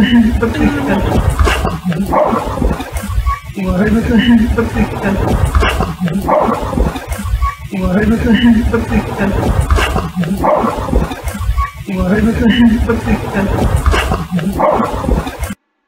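A dog barks repeatedly in loose bursts, somewhat distant, over steady background noise with voices mixed in.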